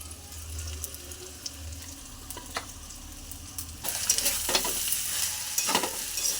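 Parboiled rice tipped into a pan over a fried egg-and-prawn masala for pulao, giving soft stirring and sizzling scrapes that grow louder and busier partway through, with no talk.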